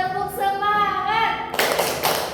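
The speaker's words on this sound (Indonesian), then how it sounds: "Tepuk semangat." Schoolchildren in a classroom perform a rhythmic call-and-response clapping routine, a voiced chant followed by a sharp burst of clapping hands in the last second.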